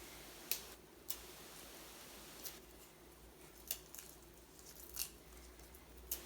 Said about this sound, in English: Tear it up into little pieces